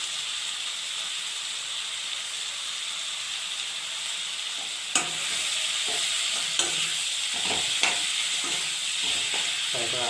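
Duck meat curry with spices fries in a pan with a steady, loud sizzle and hiss, joined midway by intermittent scraping and clattering strokes of stirring.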